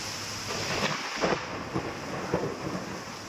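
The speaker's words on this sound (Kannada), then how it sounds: "ಬೆಂಗಳೂರು ಸೇರಿದಂತೆ ದಕ್ಷಿಣ ಒಳನಾಡಿನಲ್ಲಿ ಇದೀಗ ಮಳೆ ಅಬ್ಬರ ಬಲು" Heavy monsoon rain pours steadily over Bengaluru, with several rumbles of thunder rolling in at intervals over the constant broadband hiss of the downpour, no voices present.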